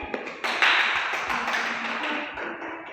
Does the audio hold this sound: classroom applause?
yes